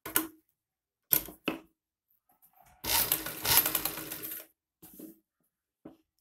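A sewing machine runs in short bursts while stitching the reverse side of a high-neck Chinese collar, with brief clicks and pauses between a longer, steady run of stitching near the middle.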